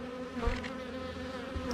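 Honey bees hum around a hive on a humid day, a steady close buzz with layered drone tones, continuous and alone.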